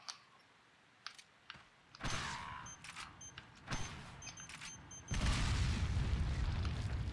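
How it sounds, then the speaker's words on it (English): A mine thrower in Resident Evil 4 blasts wooden crates apart, a few sharp bangs and bursts followed by a heavier, sustained explosive rumble near the end, with no talk over it. "Might as well use the mine thrower to blow up some crates."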